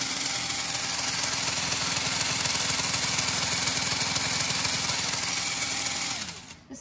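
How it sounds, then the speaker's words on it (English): A motorized LEGO Technic Ferrari 488 GTE model runs with its fake V8 engine turning, giving a steady, fairly loud mechanical whir and buzz of small motors and gears that cuts off near the end. "the wheels go pretty fast and the fake V8 engine works as well"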